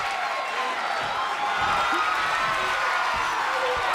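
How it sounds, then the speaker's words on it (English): A wrestling match crowd in the video game WWE 2K22 roars and cheers in a dense, continuous wall of noise that holds loud and steady throughout. "The sound of this crowd is deafening, and he's asking for more."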